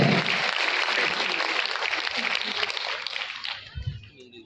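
Audience applause at a brand leadership recognition event, a dense wash of many hands clapping that holds strong then fades out, with a voice beginning to speak as it dies down.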